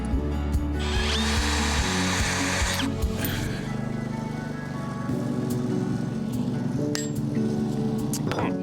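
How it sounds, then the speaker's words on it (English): A power drill with a step bit whines and grinds through metal on a van floor, its pitch shifting as it bites, with faint clinks and a steady motor hum throughout. "16 holes that I have to drill"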